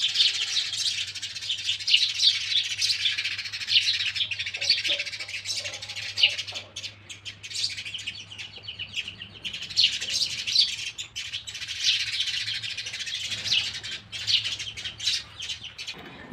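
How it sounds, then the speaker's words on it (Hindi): Two pairs of birds chirping and squabbling at dawn, a busy, continuous stream of high twittering calls and squawks that swell and fade in waves, with a low steady hum beneath and a faint voice at moments. "दिन निकलते ही चिड़ियों की 2 परिवार आ गए।"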